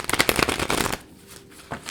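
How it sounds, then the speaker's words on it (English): Tarot cards being shuffled by hand, a loud, close riffle of rapid flicking card edges for about a second, then near silence and a brief faint rustle. "I'm going to go 2 more shuffles"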